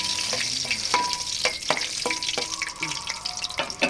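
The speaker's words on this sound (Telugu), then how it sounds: "కాసిన జీడిపప్పులు వేస్తాను." Cashew nuts frying in hot oil in a pan while chicken dum biryani is cooked, giving a steady close sizzle with sharp crackles and pops scattered throughout, no voices.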